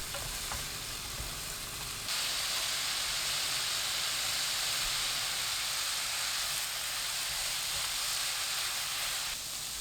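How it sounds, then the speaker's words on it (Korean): Sliced radish sizzles and hisses steadily as it stir-fries in perilla oil in a hot pan, the frying noise swelling louder after the first couple of seconds and staying constant throughout. "들기름 2큰술 넣고 4분 볶아주세요"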